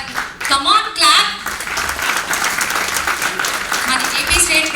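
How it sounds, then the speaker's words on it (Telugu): An audience at a launch event breaks into applause, with a voice speaking over the opening moments before the clapping settles into a steady, moderately loud wash. "కమాన్ క్లాప్."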